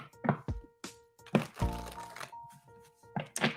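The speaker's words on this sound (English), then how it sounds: "I just love shuffling this deck." A deck of cards shuffled by hand in a bright riffle, a few quick bursts of crisp flutter and snapping with faint background tones between them, close and moderately loud.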